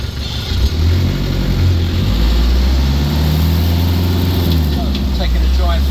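A Land Rover 110 engine drones steadily while driving through a town centre, a low continuous rumble with slight rises in pitch as it pulls along.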